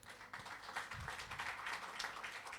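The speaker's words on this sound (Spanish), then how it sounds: "Un aplauso para Juan Pablo, ¿no?" An audience applauds for Juan Pablo at a church gathering, with a steady wash of dense clapping that lasts the whole short moment and is fairly loud and close.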